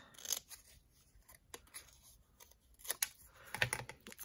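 Scissors snipping paper for a pop-up village house craft, a few quiet, close crisp cuts in short bursts separated by pauses.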